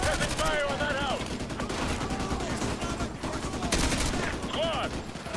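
Squad gunfire aimed at a house in a military video game, a steady clatter of overlapping rifle shots at moderate volume, with whistling tones and other battle effects layered in throughout.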